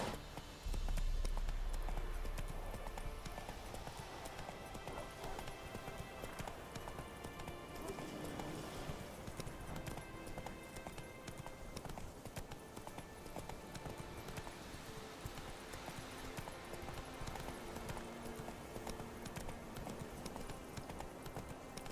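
Hooves of the horse Roach clip-clop steadily in The Witcher 3, a continuous rhythmic trot heard up close over a layer of game music and ambience, with no talking.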